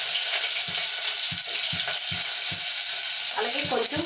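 Green chillies and onions hitting very hot oil in a pot, a loud continuous frying hiss with a string of short stirring knocks spaced through it.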